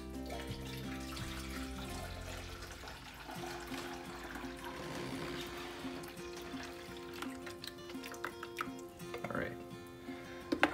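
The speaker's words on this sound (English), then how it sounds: "Next thing you're gonna wanna do is add your water to the basin inside." Water poured into the basin of a drip coffee maker, a steady running, trickling stream lasting several seconds with faint splashes, heard close and moderately quiet beneath a low background hum.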